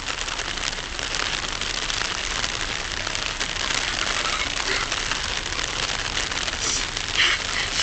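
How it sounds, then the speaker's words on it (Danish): Heavy rain pours down steadily as a dense, loud hiss of drops drumming on surfaces, constant and close throughout with no voices. "Det regner meget."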